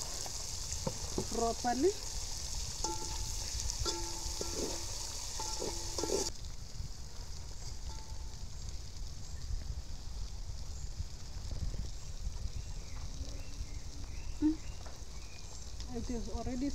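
Onions frying in hot oil in a pan, cooked outdoors in an African village, a steady close sizzle running throughout with brief clinks of stirring and a voice speaking over it.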